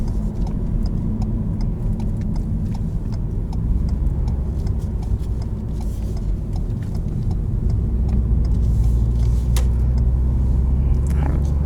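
A 2019 Ford EcoSport engine pulls steadily under acceleration from inside the cabin, a continuous close low rumble with road noise and no voices, holding even through the run and swelling slightly toward the end.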